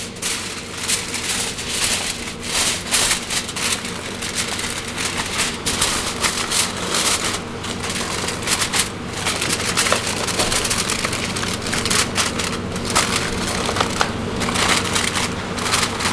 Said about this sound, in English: Put our foil here